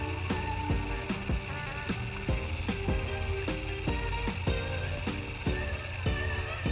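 A torque wrench ratchets while tightening car wheel lug nuts during a tire change, with repeated rapid clicking pawl strokes in a steady rhythm, close and continuous.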